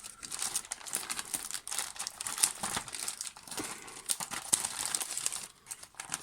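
A thin plastic carrier bag used as a parcel crinkles and rustles continuously as it is handled up close, with sharper crackles scattered through the steady rustle.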